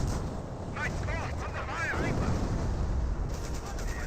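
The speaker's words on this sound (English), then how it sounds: "got the 2 US snipers firing away" Two US snipers fire away in a Company of Heroes battle, with dense, continuous game combat noise: booming artillery and gunfire rumble under chirpy effects and faint talk throughout.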